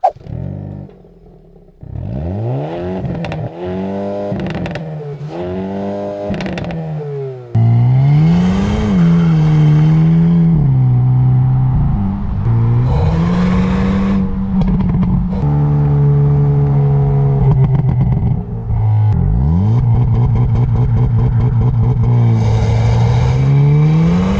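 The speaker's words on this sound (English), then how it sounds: "It's the exhaust. This thing sounds absolutely phenomenal, just like the i30N. Take a listen." A 2022 Hyundai Kona N's exhaust revs hard again and again, rising and falling in pitch with crackles between pulls, loud and close.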